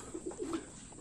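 A racing pigeon arriving at its loft coos in a few soft, close, throaty notes over a quiet background hum.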